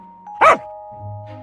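A single fierce guard-dog bark rings out, one of four big dogs tied up to guard a mango orchard in a Hindi cartoon, a short loud burst over a steady tonal hum with a quieter low rumble after it.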